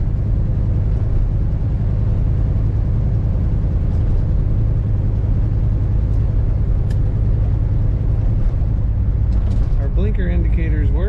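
A 1971 Chevrolet Chevelle Malibu convertible drives along with a steady, loud low engine rumble and road noise throughout. A voice speaks briefly near the end.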